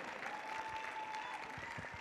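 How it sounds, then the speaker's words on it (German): Applause for the second-place team at a football tournament award ceremony, a brief burst of steady clapping from a crowd at moderate distance. "Einen riesen Applaus."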